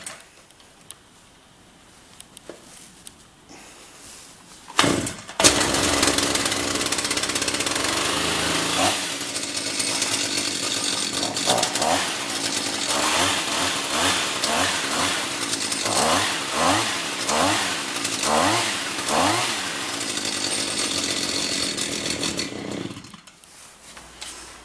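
A two-stroke strimmer engine, refitted after a clutch spring change, starts with a sharp pull and runs loud and close, revving up and down repeatedly in rising and falling bursts before cutting off.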